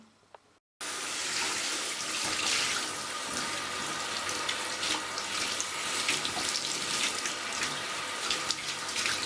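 Hair is washed under a running water tap, with a steady, close, loud rush of flowing water that starts after a brief quiet moment and continues to the end without talk.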